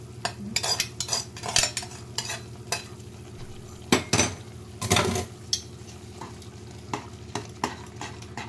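A spoon stirs semolina for a sweet pineapple sheera in a pan, giving repeated scraping strokes and sharp metallic clinks at an uneven rhythm over a soft background hiss, close up and with no voices.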